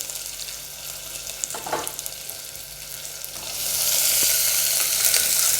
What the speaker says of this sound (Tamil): இது கூட கட் பண்ணி வச்சுருக்க சின்ன வெங்காயத்தை சேர்த்துக்கலாம்.